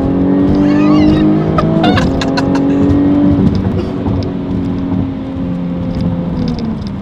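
Supercharged Jaguar F-Type V6 S accelerating hard, a loud close engine note rising steadily in pitch with a shift partway through, then pulling on at high revs, with no talking.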